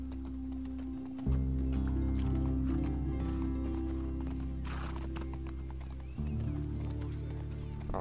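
Galloping horse in the video game The Last of Us Part 2, steady hoofbeats running under a loud, droning game soundtrack, with a brief shift in the music midway.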